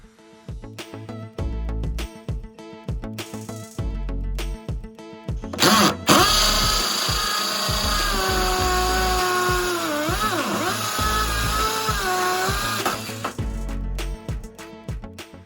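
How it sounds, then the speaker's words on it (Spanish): A cordless drill driver fitted with a concrete bit bores into a block, whining steadily and loudly for about seven seconds between bursts of background music. "vamos a colocarle una broca de hormigón y vamos a hacer un agujero en un bloque"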